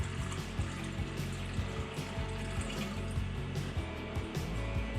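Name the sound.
water tipped into a coffee machine's milk cleaning canister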